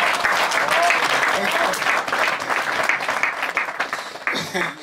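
Sustained, dense applause from a church congregation fills the room, steady and loud throughout with no pauses.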